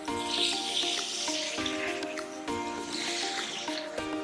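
Water is poured into a cooking pot over an open fireside flame while dhal, rice and curry are being made. A steady, close splashing hiss with faint crackle runs throughout, with no talking.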